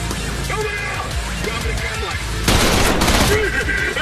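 Gunfire in the first-person shooter Trepang2, bursts of rapid shots crackling in sequence with a louder, denser fusillade midway, mixed with game effects and someone talking over it.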